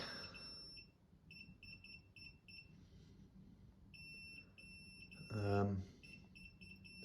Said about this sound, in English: I'm wondering if it's going to start beeping again here.